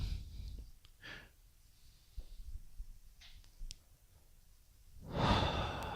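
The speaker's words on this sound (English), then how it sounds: "all we have to do is take a nice, strong, deep breath in." A strong, deep breath drawn in through the nose and mouth during a relaxation exercise, quiet and close, with a louder rushing breath near the end after softer breathing earlier.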